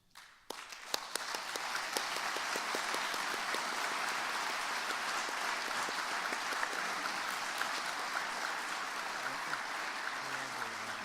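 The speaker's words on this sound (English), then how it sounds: "I will ask Valentino Cavalli, as chair of the board of the Fitch Foundation, to accept our applause." Sustained applause from the audience at a conference closing plenary, honoring a foundation's board chair, a steady mass of clapping at moderate distance, with a few sharper individual claps at the start.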